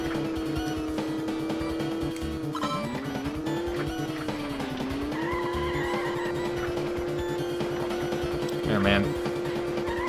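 A race car in Road Trip Adventure, running on bad tires, holds a steady engine drone, with tire squeal and skidding rising and bending in pitch through the turns and game music layered underneath.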